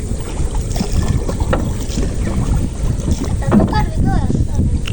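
A country boat moving on a village river in Bangladesh just after its anchor is let go, with water sloshing and wind noise up close, a few sharp knocks and rattles, and people talking over it.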